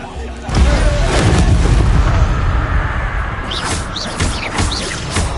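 An Expelliarmus spell is cast in Hogwarts Legacy, a heavy booming burst followed by a sustained rumbling roar, with a few brief higher whooshing swishes near the end and some voice mixed in.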